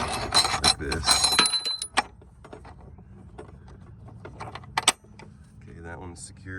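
Long metal hooks clink and jangle against each other and the strut bolts while front struts and springs are removed from an Audi or VW, with a burst of rattling followed by a few lighter taps and one sharp clink.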